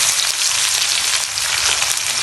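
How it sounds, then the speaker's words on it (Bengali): Loud, dense sizzle of chopped onions frying in hot oil with fennel and whole spices in a pan, a continuous close crackle with a faint stir. "পেঁয়াজগুলোকে এখানে লাল লাল করে ভেজে নিতে হবে।"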